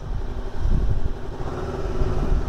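A Voge 525RR motorcycle being ridden, its engine giving a steady, rumbling drone that rises and falls slightly as it runs, close and loud, with no speech.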